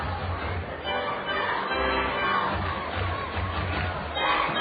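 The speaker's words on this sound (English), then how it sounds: "Kids trying to get the crowd going." Children cheering and shouting within a crowd at a minor-league baseball game between Kane County and Cedar Rapids, a loud continuous roar of young voices from the stands.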